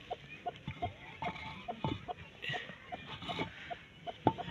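A mother hen, newly hatched with eleven chicks, clucks repeatedly in a steady, rhythmic series of short, close calls, each clearly separated, with faint higher peeping and light background noise around them.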